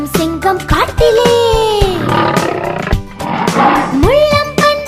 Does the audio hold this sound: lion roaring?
yes